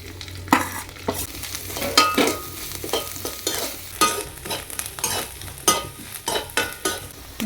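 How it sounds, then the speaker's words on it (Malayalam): Grated coconut frying in hot ghee, a continuous sizzle with repeated scraping stir strokes of a spoon in the pan, close and clear with no voices. "നമുക്ക് നെയ്യ് ചൂടായിട്ട് തേങ്ങ വറുത്തെടുക്കാം."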